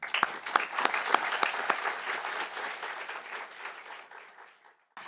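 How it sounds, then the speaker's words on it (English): Audience applause at a Larimer County community event, a burst of crisp individual claps quickly swelling into dense, steady clapping that gradually thins and fades out near the end. "let's give them a round of applause"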